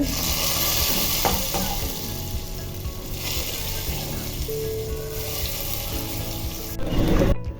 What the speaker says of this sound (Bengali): তো আমি পেঁয়াজ বেরেস্তাটা সবজির মধ্যে দিয়ে দিচ্ছি